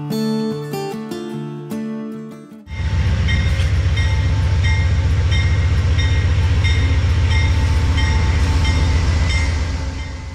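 Amtrak intercity passenger train at a station, heard from outside as a loud, sustained rumbling engine drone with a steady tonal hum that starts abruptly and holds, no voices.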